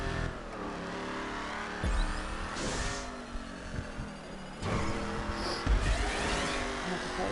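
A car in GTA 5 driving through tubes, its engine humming and revving steadily, with occasional thumps and tire noise as it bounces along the curved surface.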